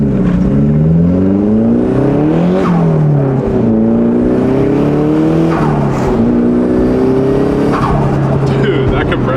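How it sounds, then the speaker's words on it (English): JDM turbocharged car heard from inside under hard driving: loud engine revs climbing and dropping through repeated gear changes, with sharp turbo flutter on lift-off, while people talk over it. "Dude, that compressor surge is so good."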